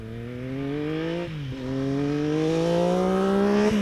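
Triumph Tiger 1200 Explorer motorcycle engine breathing through a Leo Vince exhaust with the baffle removed, holding a steady drone that dips briefly, then climbs smoothly in pitch as revs rise, loud and close with no talk.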